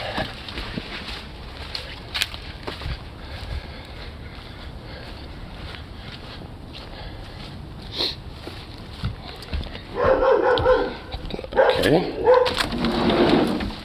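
A dog barks a few times at a distance, with loud bursts in the second half, while people talk in a home around lunchtime.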